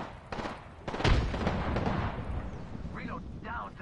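A frag grenade explodes in a battle royale shooter with a deep booming blast, followed by rumbling gunfire and chatter as a player talks over the action.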